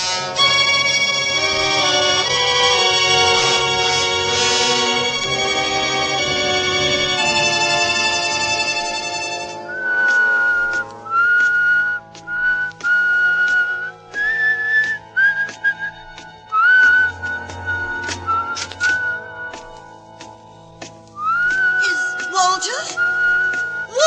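A man whistles a wavering tune in a radio drama. Bright, sustained notes come in short phrases with pauses between them, following a richer harmonic passage at the start.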